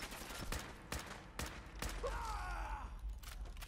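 A submachine gun fires from the hip in Fallout 4, with sharp, loud shots spaced about half a second apart and a brief mechanical rattle between them.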